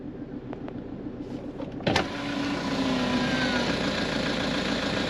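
Repaired high-mileage Toyota engine, 440,000 km on the clock, settling into a steady idle after its first startup, a continuous even rumble that swells slightly after a sharp click and holds close and smooth.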